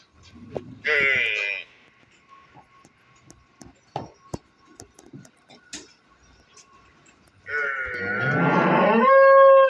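A freshly calved buffalo moos loudly twice, a short low call followed later by a long drawn-out bellow, with quiet clicks and murmuring in between.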